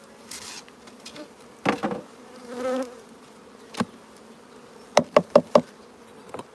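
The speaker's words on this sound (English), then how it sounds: "Still plenty of bees in here." Honey bees buzz around a nucleus hive being transferred, a constant low hum beneath sharp wooden knocks and taps from handling the hive boxes.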